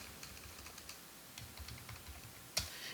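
Keystrokes on a computer keyboard as a command is typed into a Linux terminal, a faint, close, irregular patter of clicks ending in one sharper keypress, with no talking.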